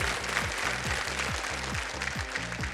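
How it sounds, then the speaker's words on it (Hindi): A studio audience on the quiz show Kaun Banega Crorepati applauds a correct answer with steady, even clapping that continues throughout, while a rhythmic low musical pulse plays underneath. "ताली बज गई पहले से"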